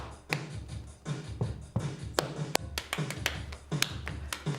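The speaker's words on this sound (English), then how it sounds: "they all improvised their own clapping pattern" Children in a classroom circle improvise their own clapping patterns with body percussion: sharp, irregular claps and taps in quick bursts, fairly close, with no talking over them.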